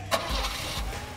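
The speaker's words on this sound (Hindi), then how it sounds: "आई होप गाड़ी स्टार्ट हो गया, लाइट ऑन थी।" A car engine cranks briefly and catches, giving a short low rumble that settles into a rough idle, heard close and alone with no talking.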